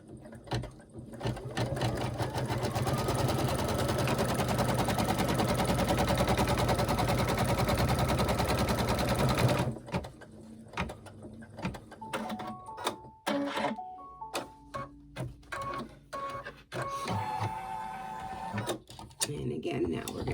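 Sewing machine stitching down the folded edge of a quilted table runner, running steadily for about ten seconds, then stopping as light handling sounds and short clicks of fabric and tools follow; talk occurs nearby.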